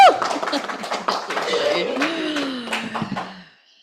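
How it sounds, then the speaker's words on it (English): A congregation claps for Reverend Teresa Gardiner at a Sunday celebration service. The clapping is close and steady throughout, with a voice whooping and cheering over it before it fades at the end. "Let's give her a clap."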